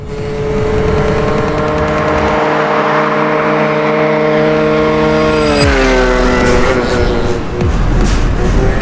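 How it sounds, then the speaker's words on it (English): A modified scooter engine screams at full throttle, its loud rising whine climbing steadily in pitch, then briefly breaking up and dropping before revving again, close and dominant. "Here we go, full throttle."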